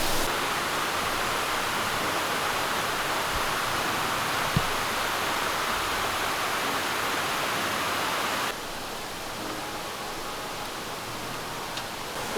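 A waterfall near Lake Atitlán roars as a steady, broadband wash of falling water, close and continuous, dropping slightly in level partway through with no talk over it.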